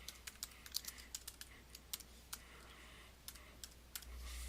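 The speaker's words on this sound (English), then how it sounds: "all you have to do is type the line into the text box" Typing on a computer keyboard, a quick run of light, close key clicks in uneven bursts, with short pauses between, quiet and alone.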